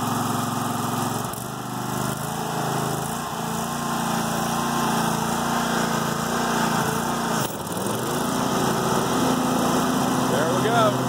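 A lawn mower engine runs steadily at close range with a constant high whine and low rumble, dipping briefly near the start and again around the middle as if throttling, then resuming; a person talks over it at times.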